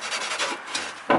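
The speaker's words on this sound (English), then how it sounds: "in here I scratch this carefully" Careful hand scratching across the surface of an automatic transmission part, a dry rasping rub repeated in short strokes at close range, ending with a sharper louder scrape.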